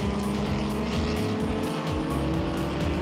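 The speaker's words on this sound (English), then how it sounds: "Willie Hepburn in his Opel Record flies past the Porsche 911R of Ifrit Buerta" A roaring engine sound as racing cars, an Opel Rekord and a Porsche 911R, speed past each other on a historic race circuit. The engines are loud and close, with rising and falling revs and no break.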